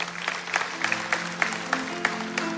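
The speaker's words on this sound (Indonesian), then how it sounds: "Kasih tepuk tangan untuk Tuhan Yesus." A church congregation claps for Jesus, a quick string of sharp claps over sustained tones that sound like music playing underneath.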